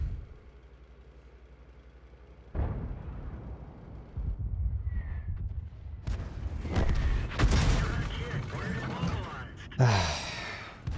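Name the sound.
artillery fire in a tank video game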